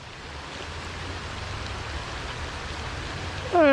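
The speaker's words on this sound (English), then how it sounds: "in the pouring down rain." Heavy rain pours steadily on a small creek, a constant broadband wash of drops and water that holds evenly throughout, with a brief tonal squeak near the end.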